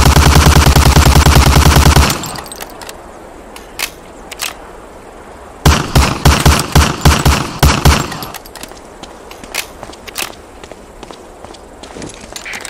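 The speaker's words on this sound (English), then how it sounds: "Shoot that target 20 times with the Thompson" Thompson submachine gun in Medal of Honor: Allied Assault fired at a target: a loud sustained burst, then quiet footsteps, then a second rapid burst of close shots and a few scattered single shots.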